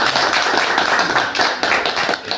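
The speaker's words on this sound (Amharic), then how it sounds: "አጨብጭቡላት።" Gathered neighbours and relatives applaud a little girl's KG3 kindergarten graduation at home, with dense, continuous clapping close by.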